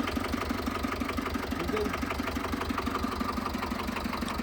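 A Swaraj 724 tractor engine idles steadily up close, its low mechanical chug knocking in an even rapid rhythm throughout, with no voices over it.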